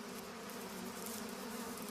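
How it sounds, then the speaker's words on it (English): Steady, dense buzzing of many male bees swarming close by in early spring, a continuous drone with no other sounds. "In early spring, the air is buzzing with male bees."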